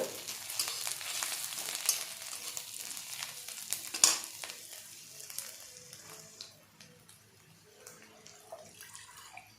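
Onion frying in a pan with cumin, black pepper and turmeric for a lentil tarka, a faint crackling sizzle with scraping stirs and one sharp clatter, gradually quieting, heard close and unaccompanied by talk.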